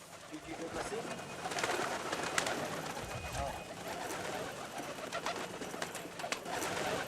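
Pigeons of a flock flown in a traditional Indian pigeon-flying sport near the Taj Mahal, with steady cooing and bird calls throughout amid busy outdoor ambience and people talking.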